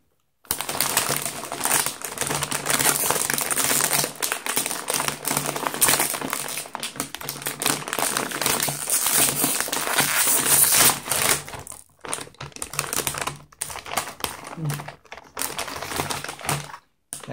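A small bag of New York Reuben flavoured Lay's potato chips being opened and handled close up, giving dense, continuous crinkling and rustling of the foil packet for most of the time, with brief pauses near the end.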